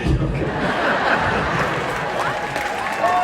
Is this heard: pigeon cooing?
no